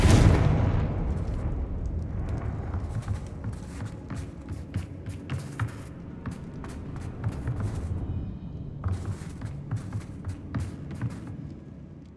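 A big Confringo fire-blast explosion opens with a heavy boom that decays, followed by scattered sharp bursts and clicks from Hogwarts Legacy gameplay, moderately loud with quieter gaps between.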